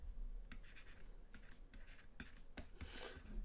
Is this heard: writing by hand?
yes